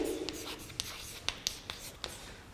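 A pen or pencil writes an answer on a math worksheet, with soft scratchy strokes and several brief taps close by in a quiet room.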